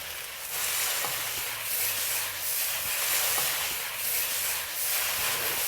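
Beef, chives and spring onion stir-fry for Cantonese beef chow fun, a loud, close, continuous sizzle that swells and ebbs in rhythmic pulses as the wok is tossed and stirred, with no talk.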